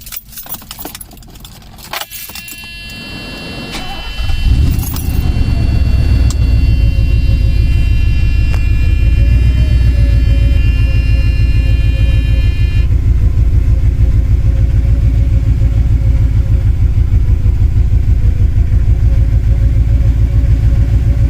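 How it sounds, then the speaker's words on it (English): A 1986 Mercedes-Benz 420SEL is started from cold: key jingling first, then the starter cranks and the engine catches with a loud surge before settling into a steady, close idle rumble. "This is going to be a cold start."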